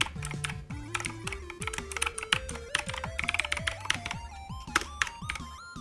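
Rapid keystrokes clatter on a computer keyboard while a message is typed, a close, irregular run of crisp clicks over a background tone of rising pitch.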